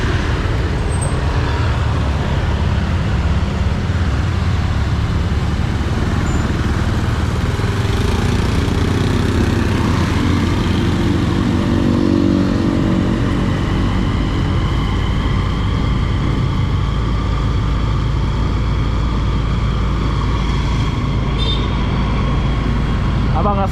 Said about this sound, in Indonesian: Sini banyak motor yang mungkin jarang.